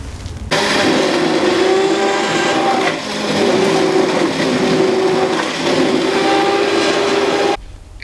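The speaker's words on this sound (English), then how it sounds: "just going to be blending this with the electric hand blender" An electric hand blender whirs loudly and steadily for several seconds blending soup, dipping briefly in pitch as it works, then cuts off abruptly.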